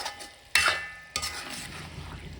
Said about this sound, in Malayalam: ഇനി കയ്യിലിട്ടൊരു രണ്ടിളക്ക് അങ്ങോട്ട് മിക്സ് ചെയ്യാം